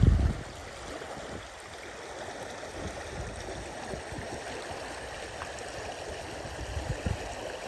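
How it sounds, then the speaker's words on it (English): Deep, muddy creek water runs at about 2.5 feet above its normal level, a steady broadband rush heard close and continuous with no voices. "this creek is still running muddy and deep right here"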